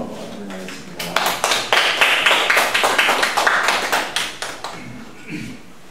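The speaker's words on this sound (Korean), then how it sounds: "김상환 교수님 박수로 한번 환영하겠습니다." A small audience claps to welcome Professor Kim Sang-hwan, sharp distinct hand claps at a fairly quick beat that swell and then thin out, close and clear, with faint voices around the edges.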